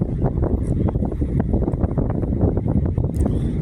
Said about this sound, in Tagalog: Narinig yung hangin sa video ko.